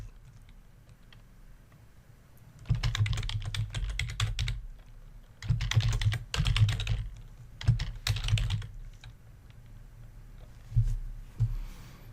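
Bursts of quick clicking keystrokes on a computer keyboard, close and fairly loud, in several short runs separated by quiet pauses.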